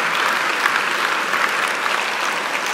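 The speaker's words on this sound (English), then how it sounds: "Can you just give them a round of applause?" An audience applauds at a church service held at a school, with dense, steady clapping that fills the whole stretch at an even loudness and no voices over it.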